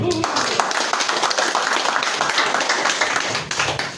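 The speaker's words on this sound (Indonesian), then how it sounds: "kami berikan aplaus kepada Bang Jumur" An audience at a labour union and activist gathering claps briefly in welcome for a speaker named Bang Jumur. The dense clapping is mixed with a voice over a microphone.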